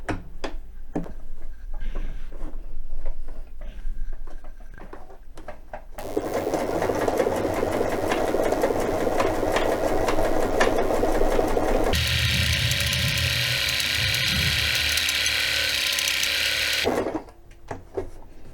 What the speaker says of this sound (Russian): И давайте начнем шить.